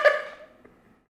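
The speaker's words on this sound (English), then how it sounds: "it's a deer. Wow." A deer lets out a single sharp scream that fades quickly over about a second, heard fairly faintly and alone.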